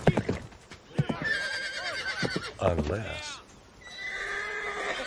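A horse whinnies loudly and close by, with hooves clip-clopping and a man's brief speech mixed in.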